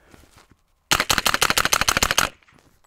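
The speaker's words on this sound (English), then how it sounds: "That thing ran 20 rounds pretty easily." Suppressed 9mm Spikes Tactical Brown Recluse short-barreled rifle firing a rapid burst of about twenty shots, loud close muffled reports in a tight rhythm that stop abruptly.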